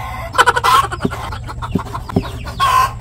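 Chickens cluck and squawk close by, several birds calling in bursts with short sharp clucks between louder squawks.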